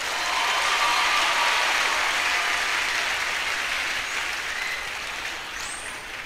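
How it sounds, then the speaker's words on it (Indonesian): Crowd at a pesantren religious gathering clapping together in a dense, continuous burst that stays fairly loud and slowly thins toward the end, with no talk over it. "Tepuk tangan ya tepuk tangan"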